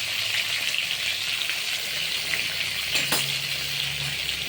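Pointed gourd pieces sizzle steadily in hot oil, with a brief scrape of stirring near the end; the frying hiss stays constant and close throughout, no talking.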